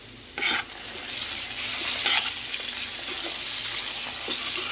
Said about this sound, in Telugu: ఇప్పుడు మనం పొటాటోస్ అనేవి యాడ్ చేసేసుకుందాం. ఒకసారి కలిపేసుకుందాం.